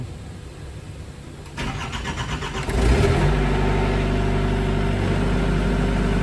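An engine cranks over, then catches at the midpoint and settles into a loud, steady rumbling run that continues to the end.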